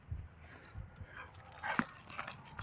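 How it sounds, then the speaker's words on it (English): A dog whimpers in a few soft, high, brief whines spread across a quiet indoor moment, with faint low rustling and shuffling underneath and no speech. "Silly dog."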